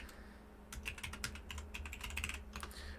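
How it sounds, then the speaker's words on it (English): Computer keyboard typing, a quick run of light key clicks in bursts over a low steady hum, close and fairly quiet, with no talking. "this is where you would actually type in a description of that receipt"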